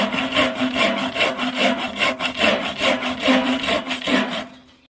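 A hand saw cuts into wood to notch a survival water container, producing loud, close, rhythmic rasping strokes about four per second that stop abruptly near the end.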